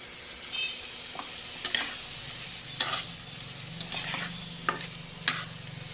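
Fish curry cooking down in oil previously used to fry fish, a soft steady sizzle under intermittent clinks and scrapes of a spatula against the pan, fairly quiet and close.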